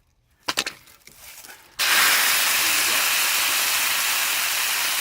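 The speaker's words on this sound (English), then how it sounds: "I'm going to blow the bread plug out of this hose bib" After a few brief knocks and clicks, compressed air is blown through a copper hose bib to push out a bread plug, bursting into a loud, steady, sustained hiss.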